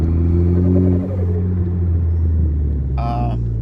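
A Ford Focus ST on D2 coilovers cornering in a parking lot, with a steady low engine rumble and drone throughout, a brief higher whine near the end, and a person talking over it.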